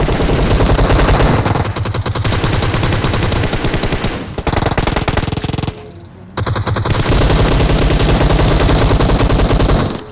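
Loud, rapid automatic gunfire from a PUBG battle-royale fight, with sustained machine-gun bursts and a brief lull partway through.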